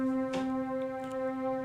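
Warm strings pad voice on a keyboard holding a sustained chord, smooth and steady with a soft attack near the start, played alone at moderate volume.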